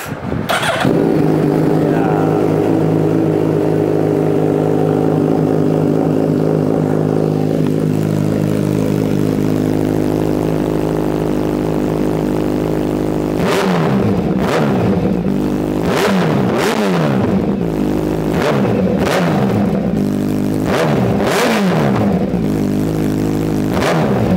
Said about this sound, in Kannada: ಸೊ ಈಗ ಒಂದು ಸ್ಟಾರ್ಟಪ್ ಮಾಡ್ಕೊಂಬಿಡೋಣ ಹೆಂಗೆ ಸೌಂಡ್ ಬರುತ್ತೆ ಅಂತ ಆಫ್ಟರ್ ಟ್ಯೂನ್